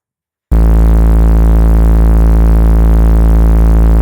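A single sustained bass layer from a drum and bass remix kicks in after a brief silence and holds steady, loud and dense, with a continuous buzzing harmonic drone.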